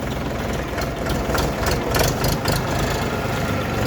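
An Orion RF-244 tractor from 2023 idles steadily at a machinery yard during loading, a loud, close, continuous mid-low engine drone with a faint knocking pulse and no talk.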